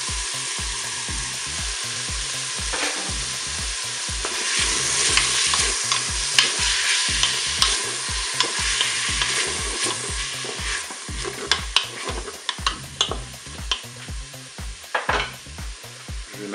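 Onions frying in a Cookeo multicooker while being stirred, a steady sizzle under repeated scraping strokes of a utensil against the pot, close and fairly loud, with no talking.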